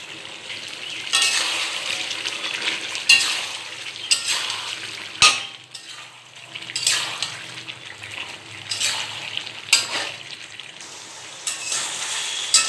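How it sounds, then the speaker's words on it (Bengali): Chicken curry meat with cumin powder fries in a pan with repeated bursts of hissing sizzle and stirring, broken by a sharp clank near the middle and short quieter gaps. "মাংসটা কষানো হয়ে গেছে।"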